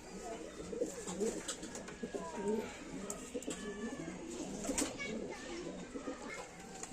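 Several loft pigeons, long-endurance flying birds, keep up steady throaty cooing nearby while faint children's voices and background chatter drift underneath, with occasional sharp clicks.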